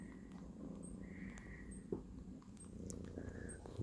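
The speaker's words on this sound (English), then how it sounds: "Oh, there's lots of purring going on." A British Shorthair cat purrs continuously close by while kneading, a soft low rumbling hum, with a few faint chirping sounds in the background.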